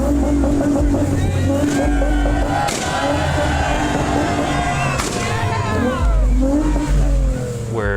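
Honda Odyssey van with a muffler delete at a large car meet, revving loudly and close with sharp pops and cracks between rising and falling engine sweeps, while voices talk around it.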